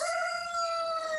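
A rooster crows in one long, steady call with clear harmonic tones, loud and close, running the full length with no talking.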